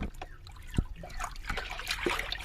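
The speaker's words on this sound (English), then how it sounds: "Let's rinse Leo." Water trickles and splashes while a dog is rinsed during a bath, a soft, close stream with a few thumps and splatters, quiet and brief.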